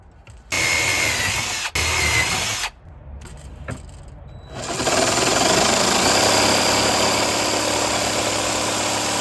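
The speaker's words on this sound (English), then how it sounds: "drill a couple holes just to get the jigsaw going" A power drill bores starter holes into a pine board for a jigsaw: a few short whirring bursts with brief stops, then a long, steady, loud drilling run.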